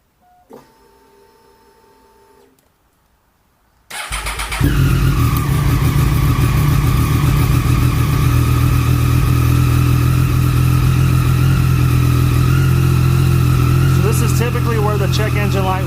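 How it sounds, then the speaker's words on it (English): A 2014 Triumph Daytona 675R engine cranks with a whirring starter after a quiet stretch, then catches and settles into a loud, steady idle that continues to the end. "We're going to go ahead and fire it up, make sure we have no check engine lights"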